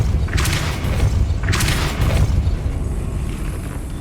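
A Depulso spell is cast in the video game Hogwarts Legacy, two loud booming blasts about a second apart over a rumbling game background.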